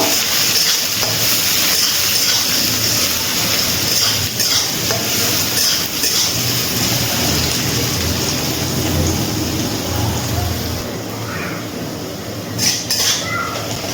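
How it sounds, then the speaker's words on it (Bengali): Chopped onion fries in hot oil with tempering spices for jhinge aloo posto, a steady close hiss and sizzle with faint stirring scrapes that eases slightly near the end, no voices. "পেঁয়াজটা একটু ভেজে নেব।"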